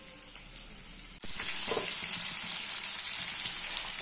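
Aloo dum, a potato curry, sizzles steadily as it is sautéed in a pan, with a short quiet stretch before the frying grows louder and continuous and a few soft stirring clinks.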